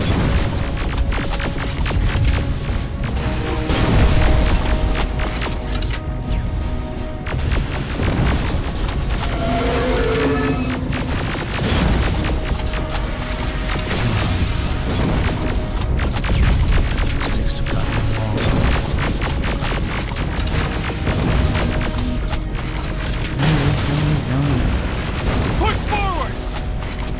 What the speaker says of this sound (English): This is the laser gun fight that you all wanted to see.